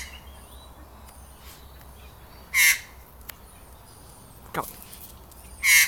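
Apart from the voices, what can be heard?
magpie calling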